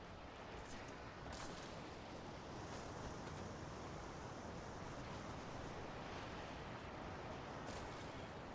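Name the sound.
magical water whirlpool swirling in Dragon Age Veilguard video game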